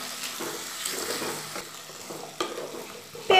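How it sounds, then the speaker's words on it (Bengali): Thinly sliced papaya and potato curry stirred in a pan, a moderate sizzle with repeated scraping strokes of the spoon at a loose rhythm, close by with no voices. "পেঁপেটা দিয়ে দেওয়ার পরে আবার ভালো করে নাড়াচাড়া করে দেব।"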